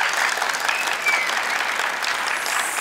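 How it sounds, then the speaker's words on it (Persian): Studio audience at an Iranian TV game show bursts into steady, dense applause, loud and close, filling the whole moment without voices on top. "یک تشویق داشته باشیم."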